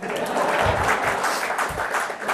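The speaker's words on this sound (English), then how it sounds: "if you want to clap, clap louder" Steady applause from a conference audience, a broad wash of many hands clapping at moderate volume throughout, with no voices standing out.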